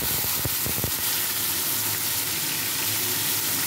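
Spice paste of ginger and cumin hitting hot oil already tempered with bay leaf, dried red chilli, whole garam masala and cumin seeds, for a vegetarian jackfruit curry: a close, steady sizzle and hiss with a few sharp crackles at the start.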